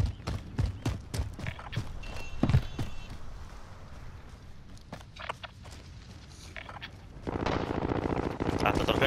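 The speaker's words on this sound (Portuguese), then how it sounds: "Ah, tá trocando tiro lá, de lá, ó." Gunfire exchange in the video game Warzone, a volley of sharp distant shots in the opening seconds followed by scattered pops under quiet in-game ambience, ending in a louder rushing noise.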